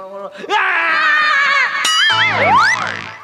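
A woman's loud, sustained shouting scream in a Marathi comedy sketch, cutting in abruptly and warbling for nearly three seconds before sliding upward into a shrill whoop, with a brief shout just before it.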